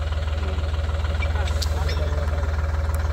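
A 2024 Sonalika DI 745 tractor engine idles close by with a loud, even, rapid low thumping that runs steadily throughout, with faint higher clatter above it.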